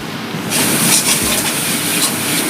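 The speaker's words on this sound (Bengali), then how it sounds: "বন্ধুরা জলটা ফুটছে" Water for biryani boils in a pot, a loud, steady rushing hiss that swells in after a brief quieter moment and continues unbroken.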